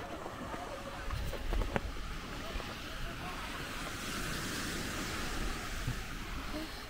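Sea waves washing onto a beach in Mauritius, a steady broadband surf wash with wind buffeting the microphone, continuous and moderately loud, with a few faint knocks early on.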